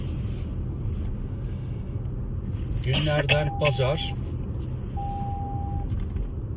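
A Toyota RAV4 being driven along a road, with a steady low rumble from inside the car that runs throughout. A brief stretch of talk comes in the middle.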